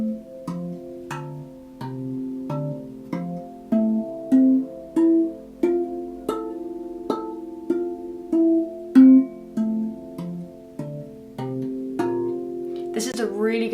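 Melodic, bell-like notes of a RAV Vast tongue drum struck one at a time in a steady rhythm, each ringing briefly before being gently dampened by hand and cut short.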